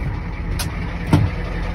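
A 1985 Ford F-350 with a 6.9 IDI diesel idles steadily nearby after a cold start, a low, even rumble with a brief swell in loudness near the end.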